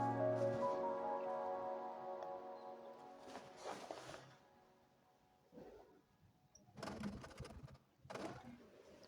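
A sewing machine stitches a fabric placket on a gown, a close mechanical whir in a long opening run, then several shorter bursts separated by quiet pauses.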